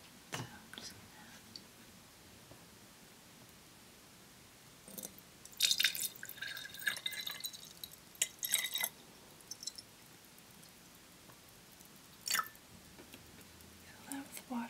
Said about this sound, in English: fill that with water.